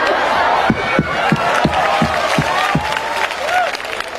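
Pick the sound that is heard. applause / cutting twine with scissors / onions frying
applause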